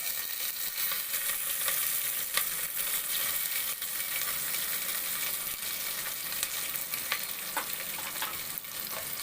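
Chopped onions fry in hot oil with fenugreek seeds for a Kanniyakumari-style stingray fish curry, a dense, steady sizzle broken by occasional stirring scrapes, close up and without speech.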